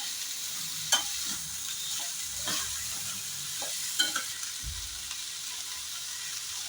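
Kandule wild greens cooking with salt in a pan, a steady broad sizzle throughout with occasional sharp scrapes of a stirring spoon against the pan, close and fairly quiet, no voices.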